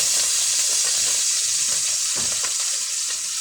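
Ginger sautéing in hot oil for native chicken tinola, a loud, steady hiss of sizzling with faint stirring scrapes and no talking.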